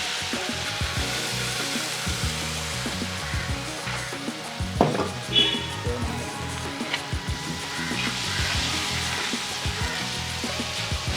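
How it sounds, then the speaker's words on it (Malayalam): Tomato and green chilli sauce sizzles and fries steadily in a pan for pepper chicken, a continuous close hiss broken by occasional stirring scrapes and clatters, with no talking. "നന്നായിട്ട് വഴറ്റി കൊടുക്കണം."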